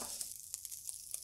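Chicken teriyaki sizzles steadily on a flat griddle, a near, continuous hiss with a few soft clicks of a spatula as the pieces are flipped, heard alone without talk.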